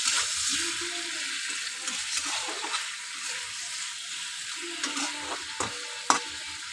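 Sliced mango frying in a pan with turmeric and salt as a spoon stirs through it, a steady close sizzle with scraping strokes and a sharper knock near the end, no talk.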